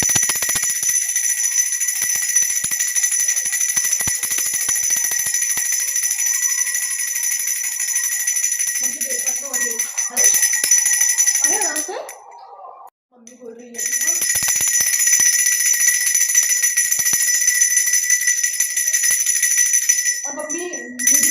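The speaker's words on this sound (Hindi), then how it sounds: "मैं घंटी बजाऊं?" A hand bell rings continuously during Shiva worship at home for Mahashivratri, a bright, shimmering metallic ringing that stops briefly midway and then resumes, with soft voices faintly beneath.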